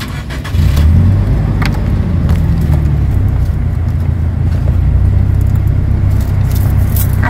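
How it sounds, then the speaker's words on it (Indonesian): A Toyota Kijang Innova engine catches and settles into a steady, loud, low idle, a continuous rumble close by with faint clicks and rattles on top. "Terus kita coba pingin nyalain mesinnya biar tahu gimana sih mobil ini iniannya."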